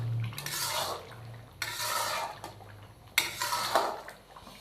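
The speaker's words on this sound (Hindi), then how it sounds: "अच्छे से इसको मिक्स करके तो 1 से 2 मिनट के लिए इसको मज़ीद पकाएंगे" A spoon scrapes through Cholistani chicken karahi masala in a wok, producing three distinct scraping and stirring bursts with a faint wet, sizzling texture between them, quiet and close.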